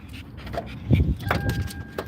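A dog pants close by in quick, uneven breaths over a low background hum, with a faint steady tone in the middle and no clear speech.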